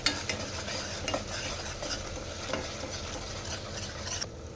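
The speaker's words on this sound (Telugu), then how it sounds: "మిక్సీ పట్టుకున్న ఆనియన్ పేస్ట్ వేసేసుకోవాలి ఆనియన్ పేస్ట్ని ఆయిల్లో కొద్దిగా ఫ్రై చేసుకోవాలి" Onion paste frying in oil while being stirred, for a Telangana-style fish curry: a steady close sizzle with repeated scraping stir strokes throughout, no talk.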